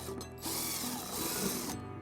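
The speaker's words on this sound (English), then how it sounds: "we're gonna drill our first hole using a 3/16 drill bit" A power drill with a 3/16 bit bores into the rear bumper of a 2019-2025 Toyota RAV4 during a trailer wiring install, with a steady whine lasting over a second after a brief start.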